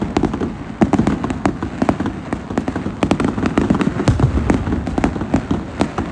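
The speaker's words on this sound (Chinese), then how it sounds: "听说这个烟花上打上的就500块钱啊" Large fireworks burst again and again in rapid, irregular succession, sharp loud cracks and booms close by over a constant crackling rumble.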